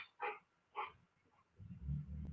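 A dog gives two sharp, quick barks at a distance, followed by low rumbling noise.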